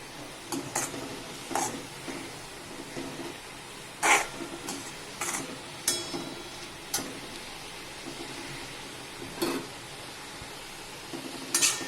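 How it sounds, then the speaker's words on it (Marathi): Spring onion greens frying in a pan with chilli and garlic: a soft steady sizzle broken by repeated scraping and clinking of a spatula stirring against the pan, close and moderately quiet. "हे थोडंसं लसूण आणि तिखट वाटून घेतलं ते भाजी परतून घेऊया"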